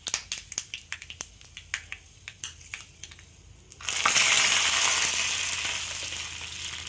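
Dried red chillies and fenugreek crackle in hot oil for mango pulissery, first as scattered sharp pops and snaps, then breaking into a sudden loud, sustained sizzle that continues to the end.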